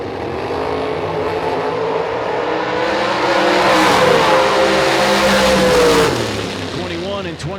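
At a drag strip, a dragster and its opponent launch and roar down the track, a loud sustained engine howl that rises in pitch and then fades, with an announcer's voice over the noise.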